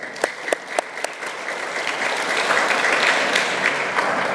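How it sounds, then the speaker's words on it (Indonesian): Applause from an audience at a graduation ceremony for Islamic boarding school students: a few sharp individual claps first, then building into sustained, dense clapping that continues steadily to the end. "Kita tepuk tangan buat mereka semua."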